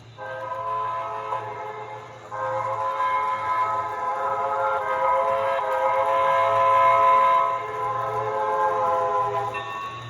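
A Broadway Limited HO scale New York Central 4-6-4 Hudson model steam locomotive runs steadily, giving a continuous whistle-like tone over a mechanical hum with no chuffing, alone and fairly close.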